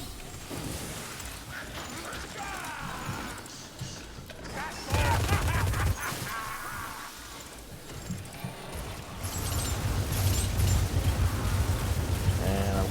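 A Gatling gunner firing in the video game Hunger in the Dark, rapid bursts of gunfire that come and go in dense clusters, with a stronger, louder stretch toward the end, amid chaotic combat effects.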